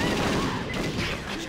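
Gunfire in the video game Perfect Dark sounds as a quick burst of several close, overlapping shots over dense background game sound.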